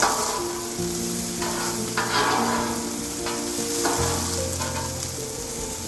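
Fried rice and vegetables sizzle steadily on a hot griddle, with repeated scraping and stirring strokes over a continuous loud hiss, and a low steady hum running beneath.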